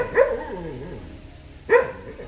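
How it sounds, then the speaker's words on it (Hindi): A dog barks twice, with the two short, sharp barks about a second and a half apart, fairly close, and near-quiet between them. "पूरे टाइम भौंकते ही रहता है।"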